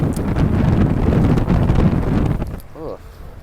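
Brisk wind buffets the microphone aboard a racing sailboat on rocky water, a loud steady roar for most of the moment before it drops away near the end, leaving quieter water and a brief voice.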